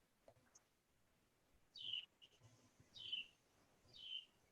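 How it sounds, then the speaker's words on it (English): Faint outdoor birdsong, three bright descending chirps spaced about a second apart over a quiet background. "I literally hear like birds chirping."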